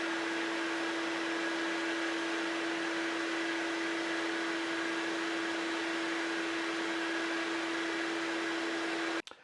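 A vacuum pulls air through a 20-foot hose, making a steady loud whooshing roar with a constant droning tone that runs unbroken until it cuts off abruptly near the end.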